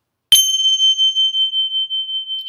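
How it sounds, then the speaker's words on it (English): A single strike on brass or metal chimes gives a bright ting that rings out in a long, slowly fading, pulsing tone, alone in a quiet room. "We're going to listen to chimes, which are metal or kind of brass"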